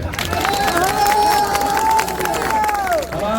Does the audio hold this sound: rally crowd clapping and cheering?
yes